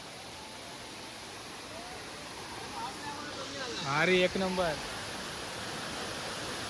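Savatkada waterfall at Rajapur in the Konkan pours with a steady, hissing roar heard from some distance, while a person speaks briefly over the rushing water midway through.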